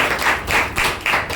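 Several quick rounds of clapping come from an audience at a business meeting, a few close, sharp bursts in a brisk rhythm.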